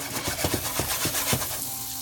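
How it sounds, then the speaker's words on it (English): Food sizzling in a pan, a bright constant hiss with a few soft stirring clicks, close and steady, no voices. "that's starting to sizzle"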